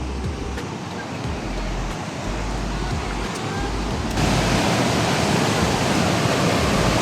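Waterfall in Taiwan during a rainy typhoon day, a dense continuous roar of falling water that grows louder and brighter partway through, with no voices.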